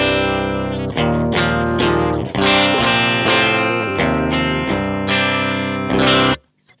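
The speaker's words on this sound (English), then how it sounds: "Here's my clean sound." Electric guitar played through a Gamechanger Audio Plasma Pedal setup, a series of ringing strummed chords with sustained harmonics, loud and close, ending in an abrupt cutoff.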